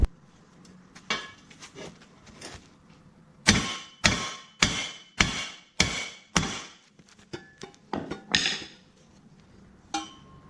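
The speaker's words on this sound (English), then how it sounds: "what I'm gonna do is hammer from the top of the pipe, and it's gonna compress itself and fit perfectly" A metal pipe for a car turbo build is hammered down into place: sharp, ringing metallic blows, first a few spaced strikes, then a run of heavy rhythmic hits, followed by lighter taps.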